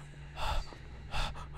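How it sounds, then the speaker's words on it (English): Heavy breathing from a demon girl character in the horror game Home Sweet Home, two loud breathy gasps close up against a low steady hum, with no talk. "You don't need to be breathing."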